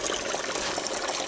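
Garden hose water flushing back through a boat engine's cooling system during an impeller job, a steady, loud close-up gush of running water with no pauses.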